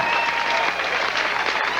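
Bowling-alley spectators clap for professional bowler David Husted at the 1998 PBA Columbia 300 Open, a loud, dense burst of applause filling the room without a break.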